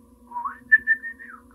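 A man whistling to imitate a friend's wake-up call, a short rising-then-level whistled phrase with a few pulses, close and clear over a faint low hum.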